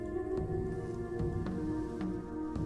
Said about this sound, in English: I should get rid of weather. I hate rain.